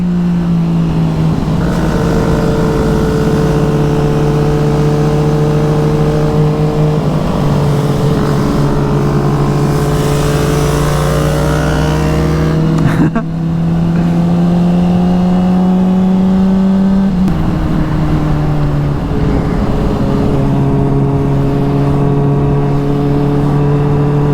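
A Kawasaki Ninja 250 motorcycle screams at high revs, loud and close, its engine note climbing steadily through the gears with short dips at each shift, a continuous high-speed run with no pauses.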